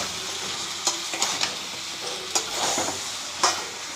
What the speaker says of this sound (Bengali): মাংসগুলো কষানো হয়ে গেছে প্রায় হাফ সেদ্ধ হয়ে গেছে